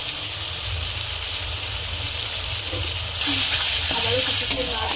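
Chana masala with a little sugar added sizzles steadily in a pan while being stirred. A louder burst of sizzling and spoon scraping comes near the end, and no one speaks.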